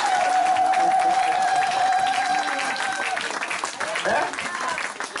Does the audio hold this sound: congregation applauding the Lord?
yes